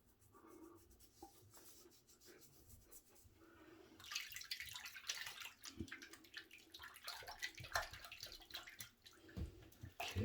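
Water splashes and rubs against skin as a face is washed by hand, starting faint and then becoming a busy, close run of wet splashing and scrubbing sounds from about four seconds onward.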